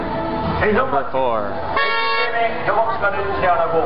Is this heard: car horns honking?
yes